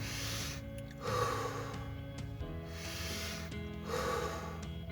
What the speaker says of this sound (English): Slowly inhale the air and slowly exhale